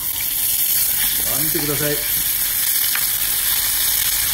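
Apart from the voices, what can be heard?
chicken skin searing in a pan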